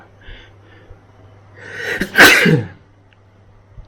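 A single loud, close sneeze with a quick intake of breath, then quiet.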